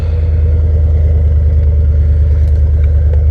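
A Ford Capri's engine idles with a steady, low burble, close and continuous, with faint light clatter over the deep rumble and no voices.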